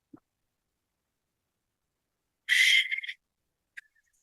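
A single warbling, watery bird whistle bursts out for about half a second after a quiet stretch, followed by a short faint chirp.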